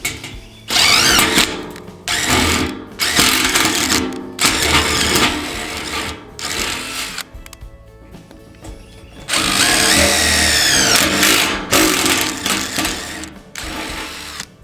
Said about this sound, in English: get yourself an impact with a large self-tapping sheet metal screw and drive it in